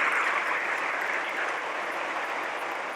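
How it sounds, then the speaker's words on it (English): Audience applause at a gala event, a steady wash of clapping from a large crowd, fairly distant and sustained throughout without speech. "He deserves a round of applause for taking us on."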